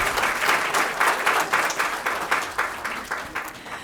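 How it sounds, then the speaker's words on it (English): A round of applause for dignitaries at a Delhi literary event, a steady wash of audience clapping with a slightly pulsing rhythm that gradually thins toward the end, with no speech over it. "May we have a huge round of applause for the dignitaries"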